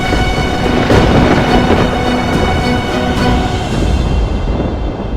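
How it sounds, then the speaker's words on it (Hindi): Thunder over Mount Kailash in a mythological drama makes a loud, continuous, deep rolling roar that fills the whole stretch and swells slightly now and then. No voices can be heard. "कैलाश गरज रहा है महादेव"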